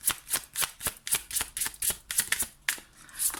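Tarot cards being shuffled and drawn, a quick run of crisp papery flicks and snaps in uneven rhythm, close and alone.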